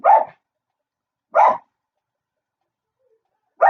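A dog barks outside, three single loud, close barks spaced more than a second apart with silence between them.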